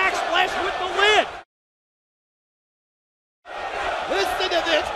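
Wrestling arena crowd at a pay-per-view event roaring and cheering loudly, with voices and shouts mixed into the din, cutting out to silence for about two seconds before the roar resumes.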